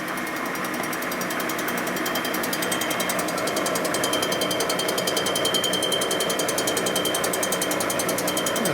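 A cutting tool works the valve seats of a 1981 Harley-Davidson XL Sportster 1000cc ironhead cylinder head, giving a loud, continuous rapid chattering buzz that holds steady from start to finish.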